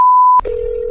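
Telephone call being placed: a steady single tone holds for under half a second, then gives way to a lower continuous dial-type tone with faint line noise beneath, loud and close with no talking.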